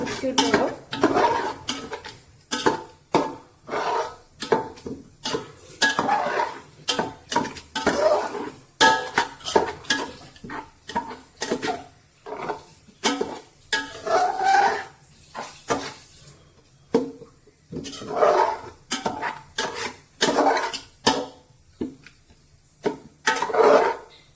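Kingfish biryani being stirred in a metal pot, producing a steady run of scraping, clanking utensil strokes against the pot, fairly close, with some faint background sounds.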